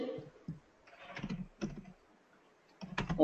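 Fingers tap out short bursts on a computer keyboard, quick clusters of light clicks separated by quiet gaps, with a voice briefly heard at the start.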